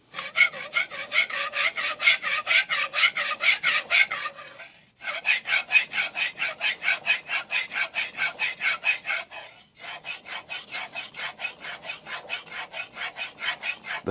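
Kitchen knife pushed back and forth across a DMD resin bonded diamond sharpening plate, giving steady rhythmic rasping strokes in three runs with brief pauses between them, close and fairly loud.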